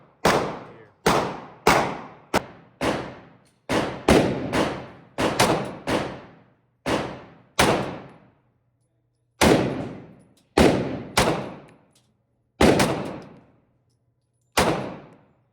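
Pistol shots from a Cylee Wolf 2-equipped PSA Dagger at an outdoor range, about fifteen sharp reports fired in quick bursts with short pauses between groups, loud and close, no talking.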